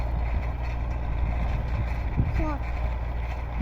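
An MTZ 82.1 tractor engine runs with a steady low rumbling drone, heard close and continuous, with faint vocal sounds briefly over it.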